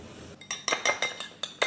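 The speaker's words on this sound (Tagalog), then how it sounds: "Pagkatapos mix natin yan," A utensil clinks sharply against a bowl while two eggs and onion are mixed, six or seven quick, bright taps in an uneven rhythm, close and without talk.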